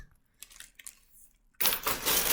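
Keys jangle and clink in a bundle, a few faint metallic taps followed by a louder, sustained rattle of many keys being shaken close by.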